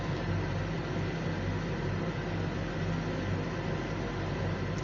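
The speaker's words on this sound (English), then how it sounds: "I'll be going in with my stick blender to make the gel" A stick blender whirs steadily as it mixes a xanthan gum gel for a soothing face gel, making a loud, close, unbroken motor drone that holds level throughout.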